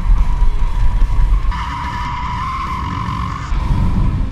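Loud tires squeal and skid as a car brakes hard, a sustained screech over heavy engine and road rumble, close by.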